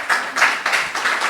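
Audience applause at a political meeting in Serramanna, Sardinia, with clapping that swells and dips in rhythmic waves, fairly close and filling the room.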